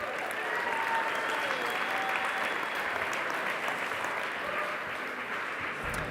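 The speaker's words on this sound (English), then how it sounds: "Let's give Peter a big round of applause." Sustained audience applause at an evening community fundraiser show, a dense steady wash of many hands clapping throughout with faint crowd murmur underneath.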